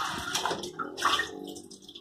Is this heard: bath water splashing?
yes